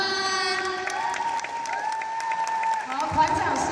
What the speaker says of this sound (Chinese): 我们先用热情的掌声欢迎他们。